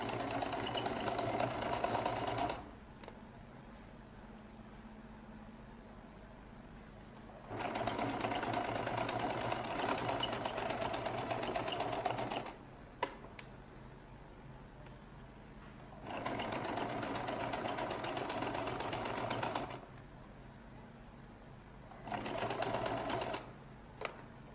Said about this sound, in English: I'll make sure that I sew a little bit away from the collar, so just slightly away, like 1 millimeter away from it.